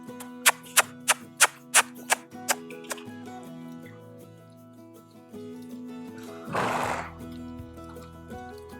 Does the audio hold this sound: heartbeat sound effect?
no